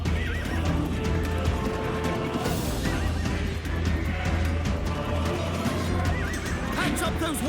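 Horses in an Age of Empires 2 battle neigh and whinny repeatedly over a busy clatter of clip-clopping hooves, loud and dense throughout, with faint game voices mixed in.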